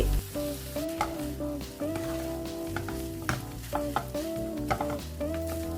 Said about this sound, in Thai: เมื่อใส่ข้าวลงไปแล้วก็ปรับไฟให้แรงขึ้นนะคะ